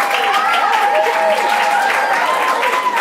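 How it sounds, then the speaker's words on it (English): A live audience at a main-stage show claps and cheers for a performer named Jesse: dense, steady applause filling the whole moment, fairly loud and close, with faint voices mixed into the crowd noise. "Clap if you're here for Jesse."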